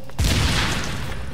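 A detonated explosive in Tom Clancy's The Division goes off as a loud, abrupt blast with a deep boom that rolls into a long, broad rumbling decay.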